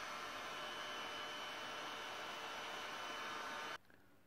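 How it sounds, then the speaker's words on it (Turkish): A hair dryer blows on a Toyota Avensis tail light with a steady whooshing hum, then cuts off abruptly just before the end. "Saç kurutma makinesiyle de kurutalım."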